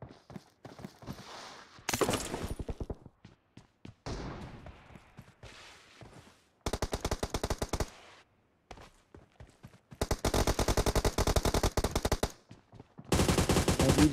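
Bursts of automatic gunfire in a team deathmatch shooter game, arriving in several sharp rapid volleys separated by quieter gaps with scattered single shots.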